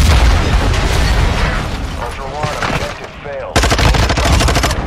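Video game gunfire in a squad shooter, loud rapid automatic bursts and repeated shots, a dense stuttering volley closing the moment, with a voice speaking in between.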